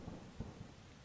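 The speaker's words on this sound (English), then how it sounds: "That was just the thunder." Distant thunder rumbling on a rainy night in the video game Wargroove: a faint, low, rolling rumble with soft swells under a steady wash of rain hiss.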